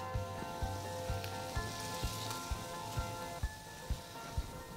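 Sauce sizzling in a hot pan with broccoli for a Chinese takeaway-style dish, a soft steady hiss and crackle broken by regular low thumps, as if stirred, about twice a second.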